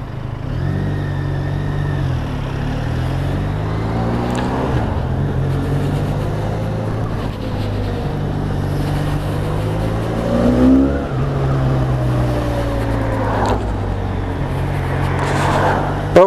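A Benelli 502C motorcycle engine filtering through traffic, its steady close droning hum rising and falling in pitch as the throttle shifts, with a few brief revs and no voices over it.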